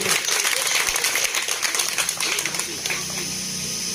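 Loud applause from a crowd at a political speech for about three seconds, then it thins out and fades, with a voice faintly audible underneath.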